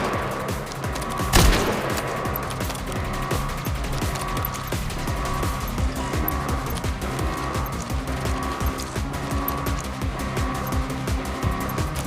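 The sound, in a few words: gunfire in the video game Gangstar Mirage City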